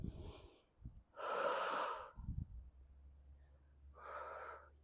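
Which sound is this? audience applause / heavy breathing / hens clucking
heavy breathing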